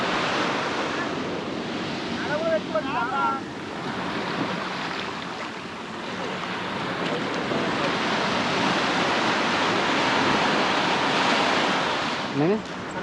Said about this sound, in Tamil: சின்ன அலையா வருது